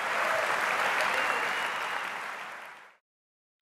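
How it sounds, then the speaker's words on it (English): An audience at a sneaker gala event breaks into full, dense applause that stays loud, then thins and cuts off sharply before a short silence. "Let's give a round of applause"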